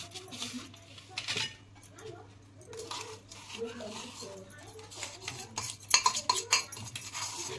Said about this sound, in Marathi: तर आता हे मिक्स करून घेते सगळं.